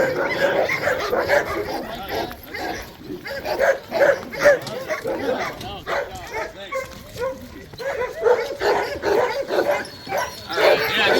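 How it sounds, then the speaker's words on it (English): Sled dogs in a dog yard near Juneau, Alaska bark, yip and whimper in an excited, overlapping chorus close by, with a person talking among the constant noisy barking. "But everyone's barking because they all want to go."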